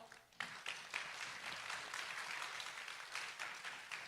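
A product-launch audience applauds a company president being introduced on stage: dense, steady clapping from many hands, loud and close, holding for about four seconds with small swells.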